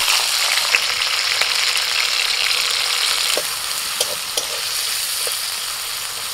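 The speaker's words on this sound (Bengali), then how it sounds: "এবার তেলের মধ্যে দিয়ে দিচ্ছি বিনস।" Green beans frying in hot oil in a pan alongside cashews and raisins, a loud steady sizzle with occasional scraping taps from stirring, close and continuous throughout.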